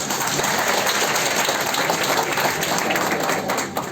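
Audience applause at a Hindi-language motivational lecture, a steady dense wash of clapping filling the room, loud and continuous throughout before easing off at the very end.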